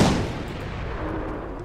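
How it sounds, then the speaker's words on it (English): A single loud cannon blast from the Guild Wars 2 video game, a sharp boom at the start that decays into a long rumbling tail with no voices. "let's build ourselves a cannon"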